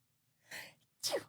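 A single sneeze, close and fairly loud, with a breathy intake followed by a sharp burst, in an otherwise quiet room.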